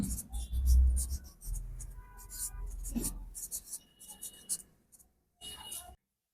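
Writing on a surface during a Class 8 math lesson on binary addition makes close, scratchy bursts of strokes that start and stop irregularly, with a quiet voice mixed in and a short silent gap near the end.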